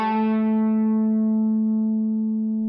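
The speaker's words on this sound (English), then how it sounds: "Here's another lick with no vibrato," Clean-toned electric guitar sustaining a single steady note with no vibrato or bending, ringing alone and slowly fading over a few seconds.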